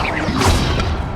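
A fire spell is cast in the Hogwarts Legacy video game, a dense, loud burst of whooshing, crashing blast noise that fills the whole moment without a break.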